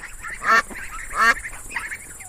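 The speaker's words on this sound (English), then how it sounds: "D for duck." A duck quacks three times, nasal and fairly close, with a short pause between each call over light background noise.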